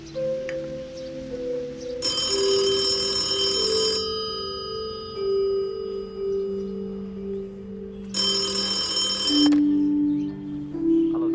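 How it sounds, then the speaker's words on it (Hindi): A telephone rings in two bright bursts with a pause between, while low instrumental music plays underneath. "ऋषभ बाबा का फोन है।"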